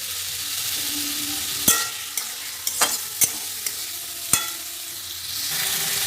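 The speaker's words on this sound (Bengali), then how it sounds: "মটরশুঁটি আর টমেটো দিয়ে একটু নাড়িয়ে নেব" Peas and tomatoes fry in a pan for matar paneer while a spoon stirs them, several sharp scraping knocks at irregular intervals over a low steady sizzle, close by and with no voices.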